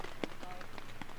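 Heavy rain beats on a tent at a seaside motorcycle campsite, a steady close patter of drops with a few sharper taps, and wind audible alongside it.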